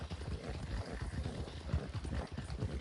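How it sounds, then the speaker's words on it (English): Horse hooves clip-clopping at a steady run on auto-run in Red Dead Redemption 2, a continuous rhythmic stream of close, low thuds over game ambience. "you could set this horse on auto run and go places without ever having to touch the controller"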